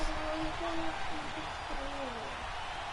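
Birds outdoors giving soft, hooting owl-like calls in a few drawn-out notes against a steady hiss of background noise, fairly faint and distant, with no talking.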